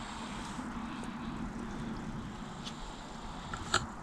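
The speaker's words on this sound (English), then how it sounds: "Now we'll just clean it up on the belt sander" A belt sander smooths the cut edge of a YakAttack BlackPak crate part with a steady, moderately quiet motor drone and grinding hiss. A sharp tick comes near the end, with no talking.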